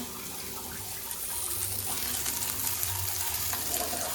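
Ramen ingredients made with Maggi noodles sauté in a hot pan on a home stove, a steady close sizzle and frying hiss that builds slightly over a few seconds.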